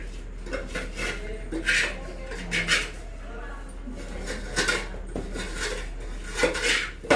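A metal pan clinks and scrapes in a home kitchen during the making of karadantu, with intermittent light knocks and rubbing at moderate distance while people talk faintly.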